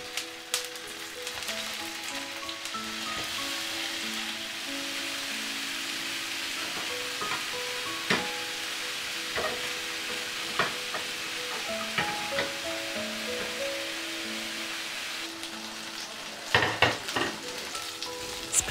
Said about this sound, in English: Gave some slits on each, shallow fried in some olive oil.